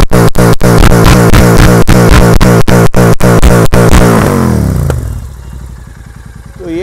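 A 650 twin motorcycle fitted with a Red Rooster exhaust revs hard and close, a loud, rapid pulsing engine note that climbs steadily and then drops away to a quieter, fading idle.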